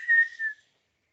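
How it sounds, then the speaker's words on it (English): A single breathy whistled tone is blown out over about half a second, then silence before a brief noise at the end, part of a breathing exercise. "breathe in, but you must whistle and say,"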